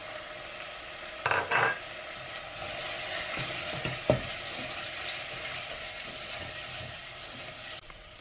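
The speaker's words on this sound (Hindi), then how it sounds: "हम इसे डाल कर अच्छी तरीके से भूनते हैं।" Whole spices such as carom seeds, asafoetida, turmeric, red chilli and salt fry in hot oil in a pan, a steady soft sizzle broken by a few scraping stirs near the start and a clink of the spoon midway.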